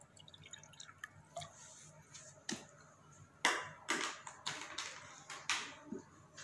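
Water poured into a glass, heard as a run of small splashes and drips that build into a fuller, uneven trickle, close and fairly quiet, with no talking.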